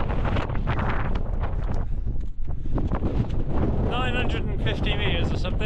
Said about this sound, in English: The wind's coming from the north, that's why it's one of the reasons it's so cold